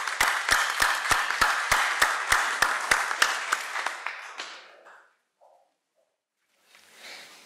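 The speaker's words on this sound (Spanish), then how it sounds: "La recibimos con fuertes aplausos" Conference audience applause, with a few sharp, evenly spaced claps up front blending into a crowd clapping that fades out around five seconds, followed by near silence and a faint rustle.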